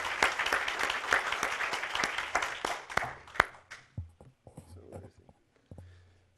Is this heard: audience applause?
yes